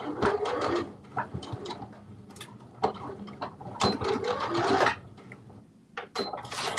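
A home sewing machine running a stay stitch in bursts, its needle mechanism whirring and clattering at close range, with short pauses and clicks between runs.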